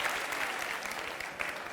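Studio audience applauding on a Turkish television talk show, a steady, dense clapping from a crowd that holds at even strength throughout.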